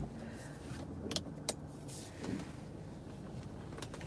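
A car drives through the streets of Ottumwa, Iowa, its steady road and engine hum filling the interior, broken by a few sharp clicks and knocks from inside the cabin.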